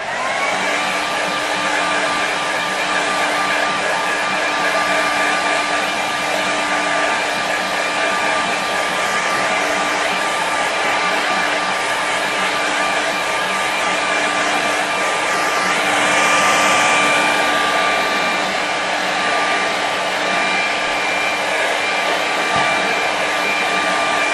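A hair dryer blows steadily and loudly to quick-dry a watercolour painting of a pool scene, a continuous whirring hiss with no break for the whole stretch and no talk over it.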